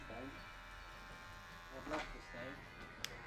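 Electric hair clippers buzz steadily through a clipper-over-comb men's undercut haircut, a continuous close hum with brief louder passes, while someone talks over it.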